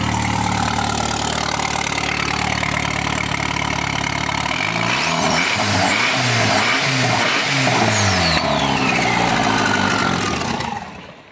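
A car engine runs steadily, then from midway turns uneven and stumbling as fuel runs low and air is drawn from the tank, sputtering and surging before cutting out near the end.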